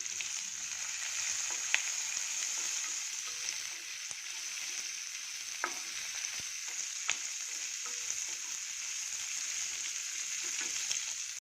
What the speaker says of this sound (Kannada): ಇವಾಗ 5 ಹಸಿಮೆಣಸಿನ್ಕಾಯಿ, 2 ಈರುಳ್ಳಿ ಹಾಕ್ತಾಯಿದ್ದೀನಿ. ಇದು ಸ್ವಲ್ಪ ಚೆನ್ನಾಗಿ ಫ್ರೈ ಆಗಲಿ.